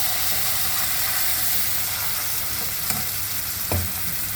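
Finely ground peanut paste fries in hot oil, giving a loud, steady, close sizzle and hiss that holds throughout, with a couple of faint utensil taps near the end and no talking.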